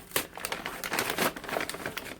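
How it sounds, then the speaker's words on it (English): A paper bag crinkles and crumples in close, rapid bursts as it is pulled apart by hand, loud and continuous for a couple of seconds. "I have this paper bag, and what I'm doing is just taking it apart"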